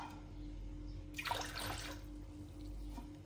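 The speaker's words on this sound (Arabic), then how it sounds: "دابا غادي نعبر معكم غير الماء." Water is poured into a glass while making dough, a short, quiet splashing burst of about a second in an otherwise hushed kitchen.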